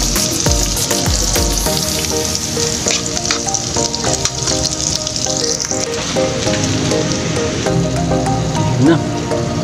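Ginger, chili, garlic and onion sautéing in hot oil in a pan for tilapia adobo, a steady dense sizzle with crackles and stirring scrapes throughout, fairly close and loud.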